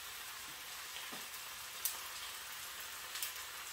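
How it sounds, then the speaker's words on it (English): Onions and peppers saute in a pan with a soft, steady sizzle, faint and even, with a couple of small clicks and no talking. "I'm just gonna saute it."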